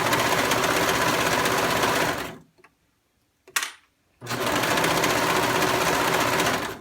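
A serger stitches a T-shirt neckband, running in a loud, steady whir for about two seconds, stopping briefly with a small click, then starting again and running steadily to the end.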